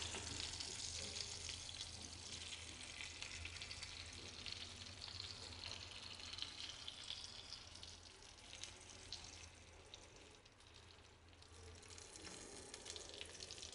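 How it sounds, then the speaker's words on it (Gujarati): Stuffed green chillies, filled with gram flour and a special spice mix, sauté in oil in a kadai, giving a steady, close sizzle and hiss that runs unbroken throughout, with no voices. "બીજી બાજુ પણ મરચાંને આ રીતે સરસ સાંતળી લેશું."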